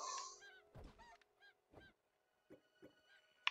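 A chicken in the video game Craftopia gives a few short clucking calls, spaced irregularly and fairly close, with small thumps between them and no talk.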